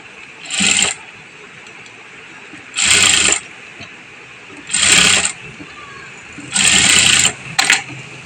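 A sewing machine stitches lace onto a small fabric strip for a Laddu Gopal turban, running in four loud, close bursts of about a second each, with quiet pauses between them and a short final burst.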